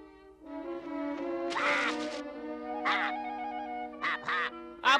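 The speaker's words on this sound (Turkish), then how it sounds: "Bu o turna kuşu." A crane calls in a Smurfs cartoon, giving several loud, nasal, honking cries in uneven bursts. The calls stand alone close up, with no talking.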